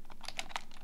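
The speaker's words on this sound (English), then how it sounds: "And obviously you can start typing if you want to." Rapid keystrokes on a computer keyboard, a quick run of crisp clicks at close range with no talking.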